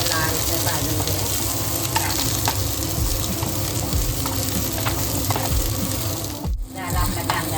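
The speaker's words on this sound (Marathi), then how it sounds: "आता आपण कांदा घेऊया भाजून. एकदम मस्त असं लालसर भाजून घेऊया." Onions dry-roast in a pan for misal pav, giving a close, steady sizzle with occasional stirring scrapes throughout, and a brief dip near the end.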